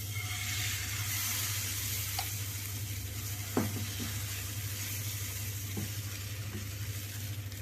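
Batter for a healthy homemade breakfast dish sizzles steadily in a hot oiled pan, a continuous frying hiss with a low hum beneath and a few faint clinks of a utensil, no talking.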